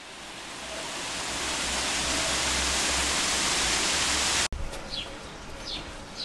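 A waterfall roars as a steady broadband rush of falling water that builds slightly in loudness, then the sound cuts abruptly and continues more faintly with some bird-like chirps.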